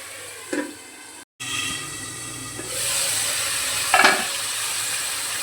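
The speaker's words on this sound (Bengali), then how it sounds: "ভালো করে নেড়ে চেড়ে ঢাকা দিয়ে দেবো এটা।" Potatoes in spice masala are stirred and fried in a pan for an egg curry, giving a steady sizzling hiss with a few close scraping strokes, and the sizzle grows louder partway through.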